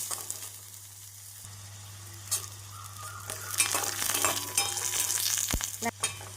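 Onions, green chili and curry leaves fry in a pan for a bitter gourd poriyal, giving a steady close sizzle with scraping stirs and clinks building toward the end over a low hum.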